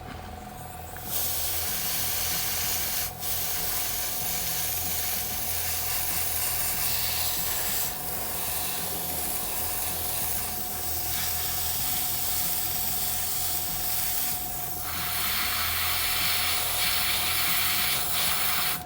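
An airbrush hisses steadily while spraying brown paint onto a Batcycle model to make it look old and rusted. The spray is close and continuous, with a faint compressor tone underneath and brief pauses between passes.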